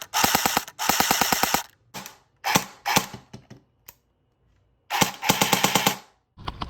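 An upgraded airsoft rifle fires loud rapid full-auto bursts, several strings of snappy shots separated by short pauses, close and alone.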